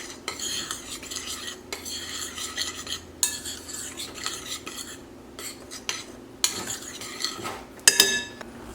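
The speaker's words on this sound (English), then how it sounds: "We'll stir these together." Flour, baking soda, salt and cinnamon stirred together in a bowl, a close, steady run of scraping and clinking utensil strokes against the bowl with short pauses, no talking.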